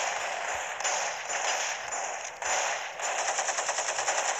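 Rapid automatic gunfire from a weapon in the video game Gangstar Vegas rattles in sustained bursts with brief pauses, sharp and bright at moderate loudness, with no talk over it.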